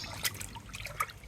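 Water trickles and splashes softly while millet is rinsed by hand, a close, quiet, continuous dribble with a few brighter splashes.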